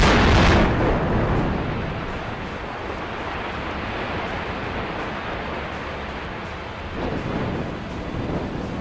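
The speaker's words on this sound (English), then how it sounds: "those explosions never get old" Explosive demolition of the Helene Amalie power plant in Essen, Germany: a loud initial blast gives way to a long, heavy rumble of collapse that swells again near the end, with wind buffeting the microphone.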